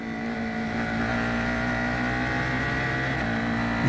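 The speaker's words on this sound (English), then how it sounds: "The exhaust note of this Storm V4 motor, the pushrod V4 that has been developed by Ligier" A Ligier Storm V4 pushrod engine in an F4 U.S. race car at full throttle at Circuit of the Americas, a steady, loud, buzzing exhaust note held without a break, with no talk over it.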